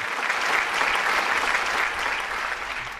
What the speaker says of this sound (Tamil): உங்கள் கைத்தட்டலோடு